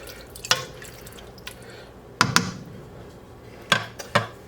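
Water is poured into a pot of vegetables for tomato clam chowder, heard as several sharp splashes and drips in small bursts over a quiet background, close by and fairly clear.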